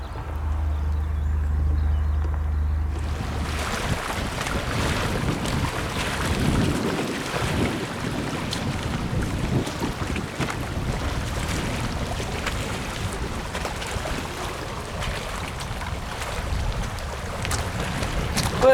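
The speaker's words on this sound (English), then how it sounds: "Well, it's windy here," Strong wind buffets and roars continuously outdoors, with rumbling gusts and whooshing bursts across the whole stretch.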